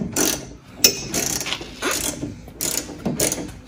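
Close, loud clicking of a ratchet tightening a bolt during assembly of a Venom Motorsports 125cc mini jeep, in several quick bursts of rapid pawl clicks with brief pauses between strokes.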